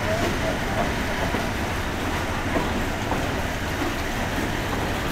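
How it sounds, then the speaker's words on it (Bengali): A train pulling into a suburban station in Bangladesh gives a steady, dense rumble and rolling hiss that stays even and close throughout. "ট্রেন শহরতলিতে যেয়ে দাঁড়াবে"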